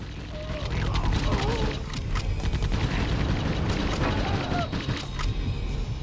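Gunfire and explosive booms from the 1997 Judge Dredd PS1 game, a dense, steady barrage of shots and blasts under continuous background noise, with a few short electronic tones.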